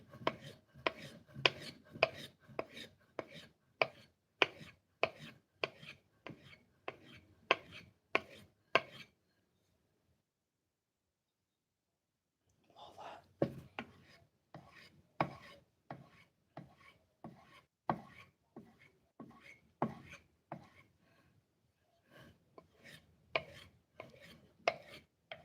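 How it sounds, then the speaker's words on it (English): Steel kitchen knives are drawn repeatedly across a knife sharpener in quick, steady rhythmic strokes, close and clear, with a pause of a few seconds partway through before the strokes resume. "I'm sharpening the shenanigans out of some knives"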